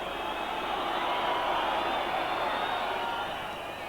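A vast home crowd roars steadily at a Hearts of Midlothian football match against Clydebank, a dense, continuous wash of massed voices that stays loud throughout.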